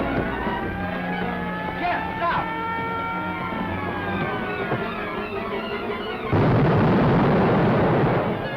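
A gas explosion in a 1945 B-movie scene erupts as a sudden loud, sustained broadband roar about two-thirds through, following a stretch of background music and noise.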